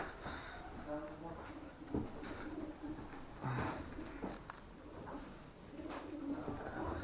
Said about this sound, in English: why are these pigeons living here when it's dead?